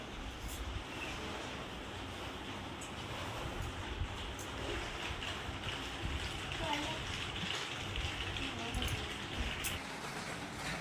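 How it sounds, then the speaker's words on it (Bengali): Heavy rain falling outside a home kitchen, a steady broadband roar of downpour with no breaks, close and constant throughout, with faint voices and household sounds under it. "বাইরে কত বৃষ্টি হচ্ছে"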